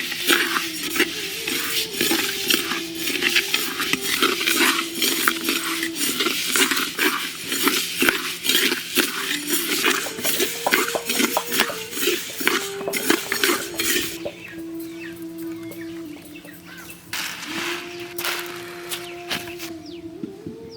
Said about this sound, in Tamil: உளுத்தம் பருப்பை நல்லா மொறுமொறுன்னு வறுத்து எடுத்துக்கலாம்.